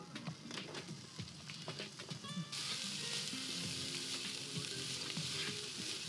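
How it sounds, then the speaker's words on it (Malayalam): Sliced onions dropped into hot oil for a gravy on a cooking show, bursting into a loud, steady sizzle that swells abruptly partway through and holds, with faint stirring clatter underneath. "ഇനി നമ്മൾ സവാള ഇടാം അല്ലേ?"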